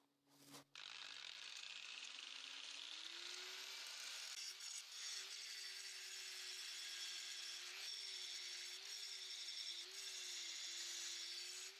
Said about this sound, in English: I'm going to start V-ing out these angles now, so when the weld goes in, it penetrates at least 3/4 of the way inside it